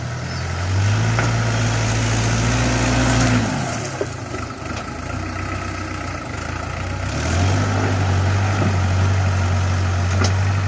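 Iseki NT 554 tractor engine running steadily while being driven, a low droning hum that rises and falls in load, loud and close throughout with no talk.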